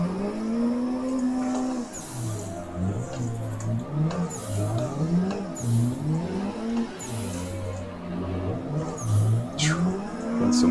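Several cars drift in Assetto Corsa, with engines revving and falling in repeated swoops. Tires squeal in short bursts, and the loud, continuous mix of engines and tire noise runs throughout without any talking.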